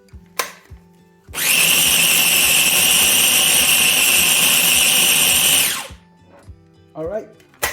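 A kitchen blender whirs loudly and steadily for about four and a half seconds while blending pesto alla Genovese, then spins down, with brief clicks and handling noises before and after.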